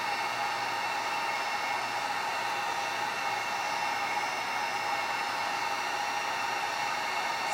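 Steady, loud hiss of a heat tool blowing hot air to melt ultra thick embossing powder, a constant unbroken whoosh throughout with no talking.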